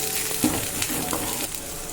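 Onion with ginger-garlic paste sizzles and fries in a hot pan with a steady hiss, broken by a few soft scraping stirs of a spoon.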